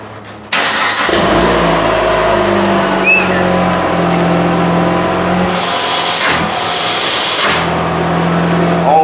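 A PT Cruiser engine with its exhaust freshly welded back together starts up loud and close, then holds a steady idle with a couple of brief revs that swell and fall.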